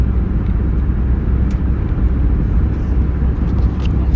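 A 2004 Ford Mustang driving on a road, heard as a loud, steady low rumble of engine and road noise, with a few faint clicks and no voices.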